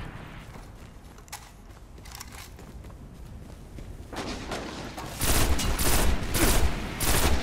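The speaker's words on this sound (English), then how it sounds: "They're the ones shooting at me." Enemy gunfire in a video game, scattered shots at first that build into dense, loud bursts of rapid firing toward the end.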